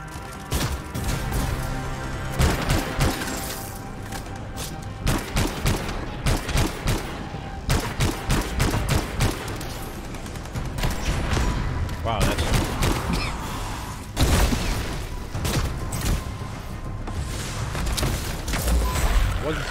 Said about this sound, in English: Jeez, that gun.